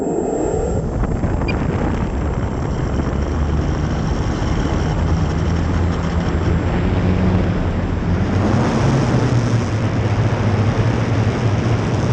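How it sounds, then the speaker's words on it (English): An RC SBD Dauntless model plane taking off on a wet runway: a constant buzzing engine drone under heavy wind rumble, with the engine note climbing in pitch and growing slightly louder toward the end. "This is the SBD Dauntless, lined up to take off towards the south on a wet runway."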